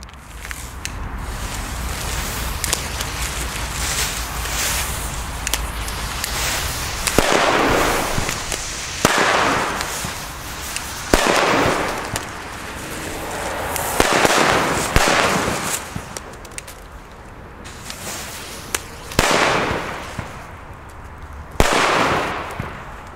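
Xplode Thunder Super II old-school firecrackers, bangers dried for a year, go off outdoors as a series of sharp loud bangs spaced a few seconds apart, each followed by a brief rumbling echo over a steady background hiss.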